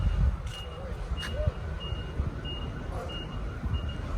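Repeated beeping alarm sounds in a yard during offloading of a 1955 International Harvester R190 truck in Cape Town, steady evenly spaced tones over a rumbling engine and background noise, with faint voices.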